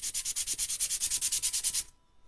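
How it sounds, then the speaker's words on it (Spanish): Fine, soft sandpaper rubbed over painted plywood (trupán), a rapid run of about fifteen even back-and-forth scratchy strokes up close, then stopping abruptly into near quiet. "Esto es una lija suavecita para madera."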